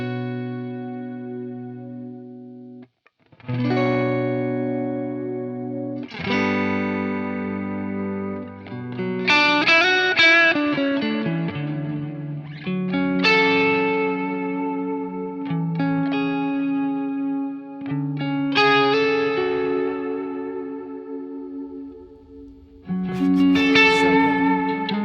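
Electric guitar notes and chords played slowly through a Keeley HALO dual echo pedal, each ringing out with repeating echoes and a wide shimmering tail, with a brief gap near the start.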